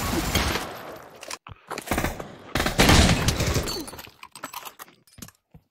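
Light machine gun fire rattles in Pavlov, loud bursts of rapid automatic shots alongside crashing, breaking impacts, broken up by abrupt silent gaps.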